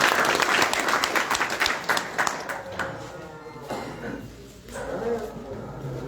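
A village meeting crowd claps to welcome a speaker, a burst of close, dense applause that thins out and fades after a few seconds, leaving scattered faint sounds and murmurs.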